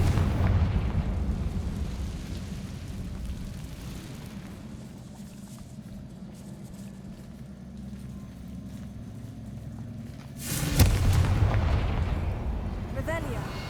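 A Confringo fire explosion spell in a Harry Potter video game bursts out as a loud blast near the end, following a long low rumbling stretch.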